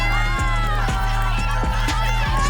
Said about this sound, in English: Look at that crowd giving her a love.